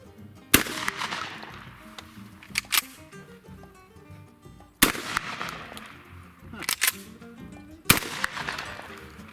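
Shotgun firing reloaded shotshells from a Remington 1400, four sharp loud blasts spaced several seconds apart with brief mechanical clacks and rattles between them, close to the mic.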